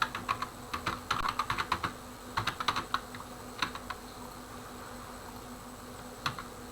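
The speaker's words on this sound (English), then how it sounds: "Here I can type" Quick bursts of clicking keystrokes on a computer keyboard, close and fairly quiet, with clustered runs of typing and short pauses between, no talk.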